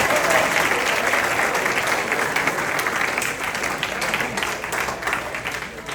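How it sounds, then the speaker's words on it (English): Banquet audience applauding at a spring sports banquet for a junior varsity boys basketball team, sustained dense clapping from a crowd, steady and close, tapering slightly toward the end. "that deserves a big round of applause"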